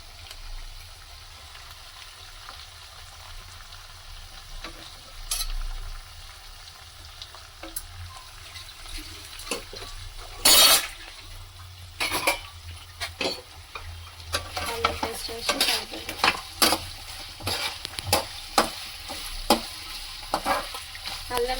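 Ginger paste sizzling and frying with chicken in a pan for a village-style chicken fry, a steady hiss broken by repeated scraping stir strokes that grow busier toward the end, with no talking.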